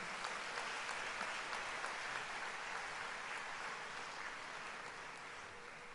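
An audience at a Rotary International District 3140 women's conference gives actress Neha Dhupia a warm round of applause, a dense, steady wash of many hands clapping that fills the room and fades slightly toward the end.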